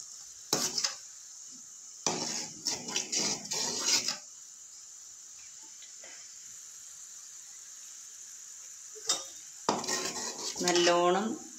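Jaggery syrup with a spoon of ghee cooks down in a pan for papaya sweets, a steady high sizzle broken by bursts of a spoon scraping and clattering against the metal as it is stirred.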